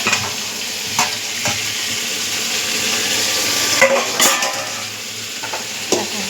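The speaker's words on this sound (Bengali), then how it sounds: "মাছটা ভাজছি এখানে" Fish fries in a pan with a steady, close sizzle, broken by a few sharp scrapes and clinks of a utensil stirring against the metal.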